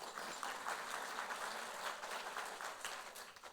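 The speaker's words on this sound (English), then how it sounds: "you can clap your hand" A conference audience claps together, a steady, moderately faint patter of many hands filling the room with no voices over it.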